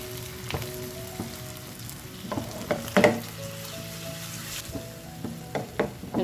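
Potato breakfast frying in a pan on a low flame, a soft steady sizzle with stirring scrapes and clinks from a utensil, close and moderately quiet, with no talking.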